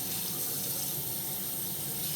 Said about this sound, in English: I clean it with like very, very hot water, and I just like rinse out all of the moisture.